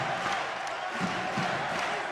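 The crowd in the Penn State arena at an NCAA basketball game against Indiana gives off a steady, loud roar of cheering and shouting, with faint voices mixed into the noise.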